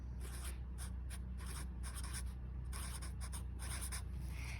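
A pen scratches out a word on a sticky note, close and quiet, with short strokes in quick bursts and brief pauses between them over a low steady room hum.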